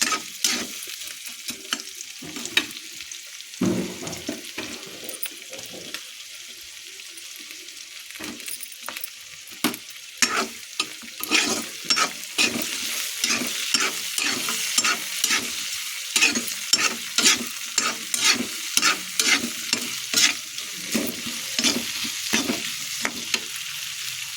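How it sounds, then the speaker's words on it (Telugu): Tomatoes frying in a hot pan and being stirred, a soft continuous sizzle with a long run of rhythmic scraping strokes that grows busier and louder toward the end, with no voices. "ఇది కొద్దిగా వేగిన తర్వాత ఇప్పుడు టమాటా వేసుకున్నాము."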